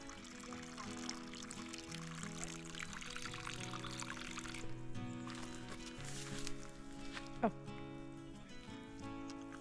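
Water is poured out to water newly planted fruit trees in a village homestead, a continuous splashing pour with faint footsteps and a brief spike near the end, while background tones hum underneath.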